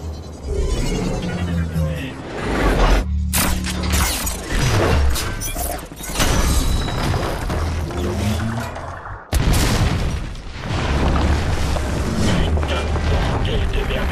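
A primed weapon fires in Wolfenstein: The New Order, setting off loud explosions and crashing debris in heavy, chaotic bursts, mixed with game dialogue.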